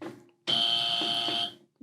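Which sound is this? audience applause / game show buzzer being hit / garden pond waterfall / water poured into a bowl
game show buzzer being hit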